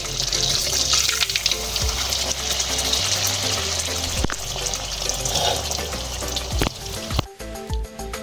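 Oil pitha, a Bengali sweet fritter, sizzles and crackles steadily in hot frying oil while being flipped, with a continuous bubbling hiss and occasional utensil knocks, close and fairly loud.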